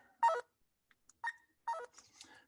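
An iBill talking money identifier in beep identification mode sounds a short series of electronic tone patterns, three main beep bursts with faint blips between, close and clear with no talk.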